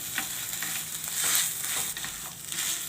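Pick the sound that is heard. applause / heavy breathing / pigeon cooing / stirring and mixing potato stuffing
stirring and mixing potato stuffing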